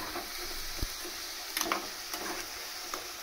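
Plantain pieces frying in oil in a pan, a steady soft sizzle with faint crackles and a few light pops and utensil clicks, heard alone at low level.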